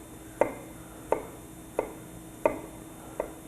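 A kitchen knife slices through an onion on a cutting board in five crisp, evenly spaced chops about two-thirds of a second apart, each close and distinct against a quiet background.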